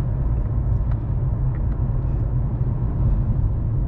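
A 2023 Toyota Camry LE cruising on the road, heard from inside the cabin as a steady low rumble of engine and tire noise, even and unbroken, with no talk.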